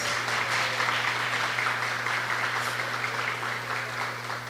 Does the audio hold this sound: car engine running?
no